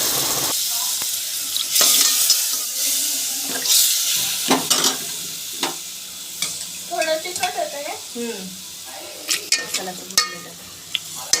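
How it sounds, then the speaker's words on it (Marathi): Chicken pieces go into a pan of cooked spice masala for thecha chicken, setting off a loud close sizzle with repeated stirring scrapes and clinks of a utensil against the pan, and brief voices in between. "आता आपण याच्यामध्ये टाकायचं आहे चिकन मस्तपैकी तर आता मी चिकन टाकून घेते"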